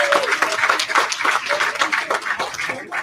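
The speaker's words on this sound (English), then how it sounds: "How about another round of applause for all of our competitors?" Audience applause at the 2021 PWBA Spokane Open bowling stepladder finals, a dense, steady patter of many hands clapping together for about three seconds, fairly close and uninterrupted.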